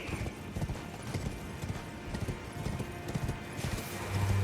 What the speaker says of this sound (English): Definitely good to have the horse at this part.